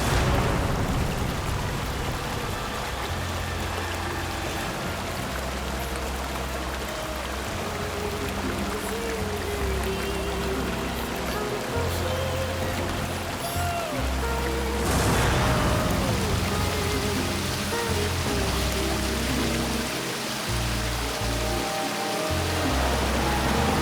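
Rushing water from waterfalls, a steady broadband roar filling the whole stretch, loud and continuous with a brief surge midway.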